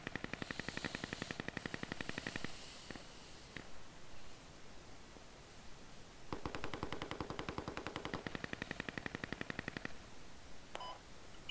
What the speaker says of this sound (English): Shots fired southeast.